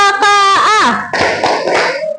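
A classroom group in a coding and artificial intelligence lesson chants a call with rising and falling voices, then claps along in a short burst of several quick, close hand claps.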